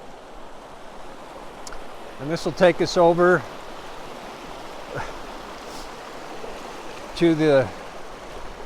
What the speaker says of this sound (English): so we're crossing the creek now